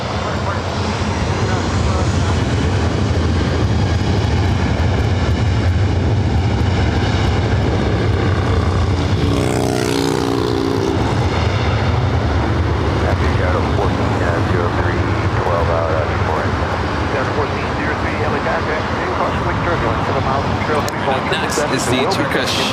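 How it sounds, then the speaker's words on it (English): A Lufthansa Boeing 747 taking off from the south side of LAX produces a powerful, sustained engine roar with a low rumble, swelling and shifting midway as it passes. "Slowing down the Lufthansa 747 at takeoff there on the south side."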